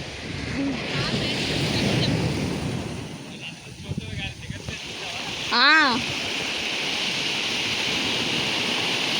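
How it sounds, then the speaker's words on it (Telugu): Steady roar of sea surf crashing against and washing over rocks at Dhanushkodi, broadband and continuous, with a brief birdlike chirp partway through. "ఆ వాటర్ రాళ్ళని కొట్టుకొని ఇట్లా వస్తున్నాయి పైకి."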